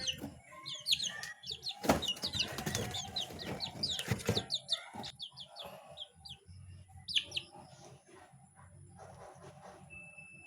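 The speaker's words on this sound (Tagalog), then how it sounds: "Pangatlong sisiw na to." Several chicks peep and cheep in quick, high bursts, with occasional clucks, close by and fairly loud at first before thinning out toward the end; faint low rumble in the background.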